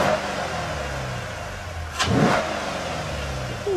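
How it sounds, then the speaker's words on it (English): A 2009 Dodge Challenger SRT8 V8 idles steadily once warmed up, with a short louder burst of revving near the middle before it settles back to a low, even rumble. "As it warms up, the tick is quieting down."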